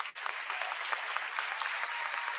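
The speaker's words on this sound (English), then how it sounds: "We applaud you." Audience applause at a university convocation: a dense, steady wash of many hands clapping from a large crowd, continuous and fairly loud throughout.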